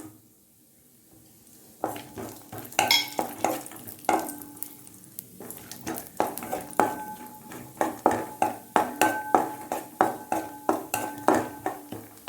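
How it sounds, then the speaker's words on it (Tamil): A spoon repeatedly scrapes and clinks against a metal pan as cashews fry in a small amount of ghee, with a soft sizzle underneath and steady, irregular stirring knocks up close. "முதல்ல முந்திரி சேர்த்துக்கலாம்."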